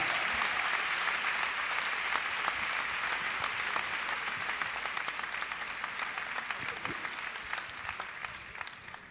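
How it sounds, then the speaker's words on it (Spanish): A church congregation applauds warmly to welcome an apostle and pastor at a morning service, a dense, steady wash of clapping that holds for several seconds and thins slightly toward the end. "vamos a recibir al apóstol, pastor Vincent Valedón, en esta mañana, con un aplauso de amor y cariño."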